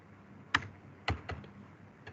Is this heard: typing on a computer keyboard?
yes